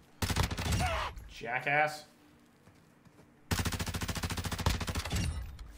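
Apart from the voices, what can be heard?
gunfire from a video game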